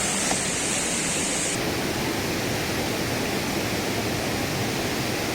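River water rushes in a loud, unbroken roar during a river race, a dense steady wash of sound with no voices breaking through.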